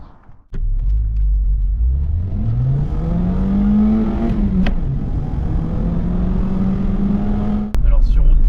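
A 1985 Mazda 626 coupé engine revs up hard and steadily climbs in pitch over several seconds of acceleration, loud and close, with a brief thump and a gear change near the end.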